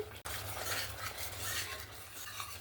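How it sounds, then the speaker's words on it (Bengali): A cashew and poppy seed spice paste is stirred and fried in a pan with a little water for a vegetarian doi potol dish, making soft, continuous scraping with a faint sizzle and no talking. "আরও 1 মিনিটের মতন একটু কষিয়ে নেব।"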